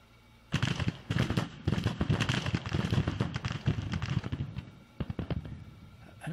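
Musket volleys in a Grand Tactician Civil War battle at Glorieta Pass: many sharp, crackling shots in irregular clusters, moderately distant and fairly quiet, over a soft background with no talk.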